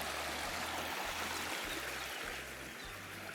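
A river runs steadily over stones, a continuous near rush of flowing water with no voices, the stream heard alone in open countryside.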